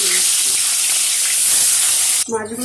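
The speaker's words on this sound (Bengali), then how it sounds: "মাছটা ভাজার জন্য কড়ার মধ্যে পরিমাণ মতো আমি সরষের তেল দিয়ে দিলাম। তেলটা দেখুন ভালোভাবে গরম হয়ে গেছে।" Fish frying in hot mustard oil in a wok, giving a loud, steady broadband sizzle that cuts off abruptly near the end as a voice begins speaking.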